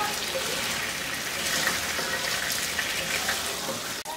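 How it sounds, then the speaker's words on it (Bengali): Chicken pieces fry in oil over high heat for a chicken vegetable biryani, giving a loud, steady, close sizzle that runs unbroken through the whole stretch with no talking. "আর আমি কিন্তু হাই হিটেই ভাজতেছি।"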